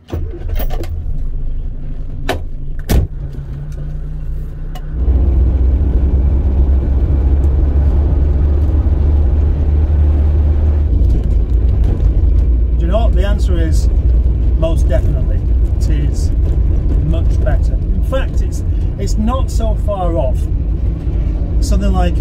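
The Mustard Missile, a car with recent improvements, is out on the road. Its engine rises to a loud, steady rumble a few seconds in and keeps running while someone talks over it.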